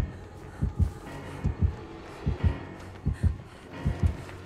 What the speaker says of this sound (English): I can hear that heartbeat.